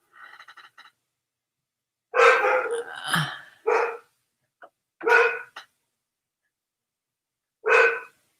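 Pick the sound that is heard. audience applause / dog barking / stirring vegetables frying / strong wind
dog barking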